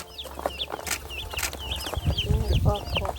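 Chickens cluck and chatter close by on a Jamaican farm in St. Elizabeth, several birds calling in quick overlapping bursts with some handling noise.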